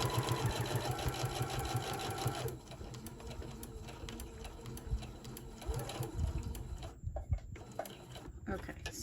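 A sewing machine sews down the first side of a decorative hot pad, a fast whirring run of stitching that stops after about two seconds, followed by quieter handling noises, short machine bursts and a voice talking.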